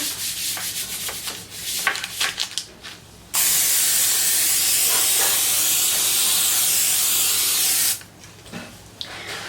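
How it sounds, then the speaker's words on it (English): Rustling and handling noises, then one long continuous hiss of cooking spray onto parchment paper lasting several seconds before the rustling resumes. "And then you're going to spray the top of the parchment paper."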